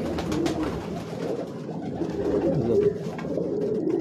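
Prince (Shahzade) pigeons coo steadily in a loft, a continuous low throaty murmur from several birds close by, with no talk over it.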